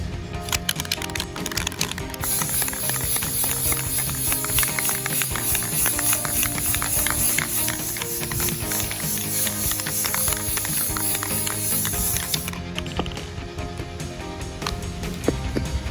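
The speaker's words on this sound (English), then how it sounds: "Spray the whole cup of clear coat" A steady, loud hiss of clear coat spray onto a tumbler runs for roughly twelve seconds without a break, then cuts off, leaving quieter rustling behind.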